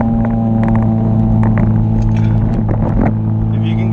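A 2016 Chevrolet Camaro engine drones steadily in third gear while climbing a steep hill, a loud continuous low hum with a few light clicks and rattles over it and no speech.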